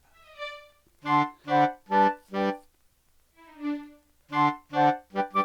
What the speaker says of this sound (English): That's not a string ensemble, that's an oboe.